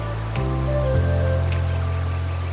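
Water flowing along the Dipalo River in San Quintin, Pangasinan, a steady trickling, burbling stream with a few splashy drips, close and continuous throughout.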